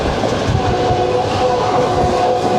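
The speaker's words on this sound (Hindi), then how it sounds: "ट्रेन हमारी दाखिल हो चुकी है मुल्तान शहर के अंदर और बहुत ही जोश व खरोश से बढ़ रही है" New Shalimar Express passenger train rolling into Multan city, a steady loud rumble of wheels and carriages with a faint sustained tonal whine running underneath throughout.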